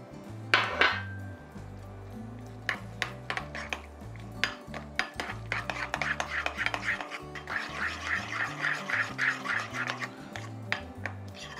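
Mayonnaise, vinegar and lemon juice for tartar sauce are stirred in a bowl, giving close, rhythmic scraping and clinking of a utensil against the bowl in quick repeated strokes, with no talking.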